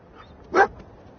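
A dog companion in the video game Fallout 4 gives a single short bark, loud and close, in an otherwise quiet moment.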